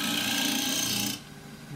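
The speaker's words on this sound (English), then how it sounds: "So next is just skim off the bottom, which I'll use the shear scraper for," A shear scraper skims the bottom of a forest-sheoak bowl on a wood lathe, giving a steady close rasping hiss that cuts off abruptly after about a second, leaving the quieter hum of the spinning lathe.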